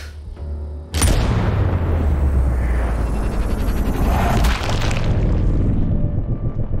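A sniper rifle fires once in the video game Sniper Ghost Warrior Contracts 2. The loud, close boom cracks out suddenly and is followed by a long, heavy rumbling tail.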